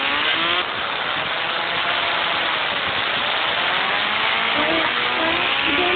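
A Kawasaki Ninja H2R motorcycle engine runs steadily and loudly up close, a continuous mechanical drone with shifting tonal whine and no clear pauses.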